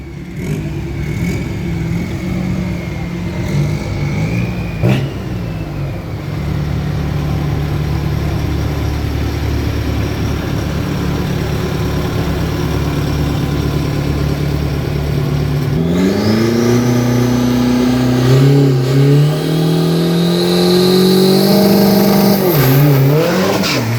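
A drag racing car with a 1.9 engine makes a test run at Bangkok Drag Avenue. The engine idles with a steady drone, then revs up hard in rising, sustained surges that get louder and higher toward the end.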